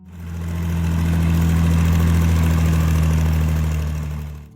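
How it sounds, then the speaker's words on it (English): Six-cylinder diesel engine of a J I Case 930 tractor running steadily at idle, a deep, even rumble with strong low hum that swells in and fades out, heard alone and close. "The 930 was equipped with a 6-cylinder diesel engine, delivering more than 80 drawbar horsepower."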